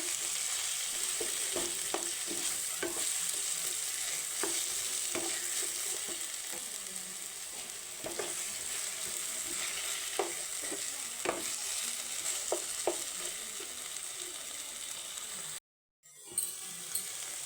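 Spice masala fried in a pan for a cauliflower and potato curry, a continuous quiet sizzle punctuated by regular spatula scrapes and taps, close up, with a short break near the end and no talking.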